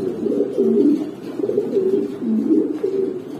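Racing homer pigeons coo in a loud, rolling, repeated pattern, close by, with no other sound.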